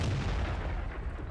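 Tank cannon fire from an A-44 in World of Tanks, a single deep, booming shot with a dense low-end rumble that carries through the short clip, loud and heard alone.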